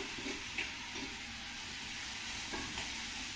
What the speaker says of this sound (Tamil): கேரட் பீன்ஸை தாளிப்பு கூட சேர்த்து நல்லா வதக்கிக்கலாம்.